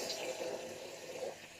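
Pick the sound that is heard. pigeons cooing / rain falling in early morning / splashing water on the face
splashing water on the face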